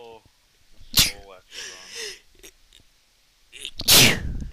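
Two loud, sharp sneezes burst out about three seconds apart, close to the microphone, with brief talking between them.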